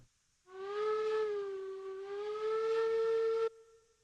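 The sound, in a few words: steam locomotive whistle in a video game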